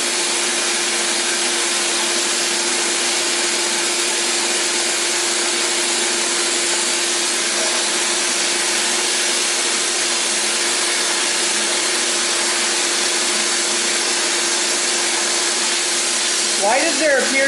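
A sandblaster fires grit at metal welds on reels, producing a loud, close, unbroken roaring hiss that holds steady for about seventeen seconds without a pause.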